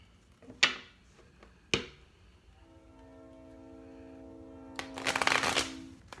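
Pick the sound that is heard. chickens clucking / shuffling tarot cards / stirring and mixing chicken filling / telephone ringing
shuffling tarot cards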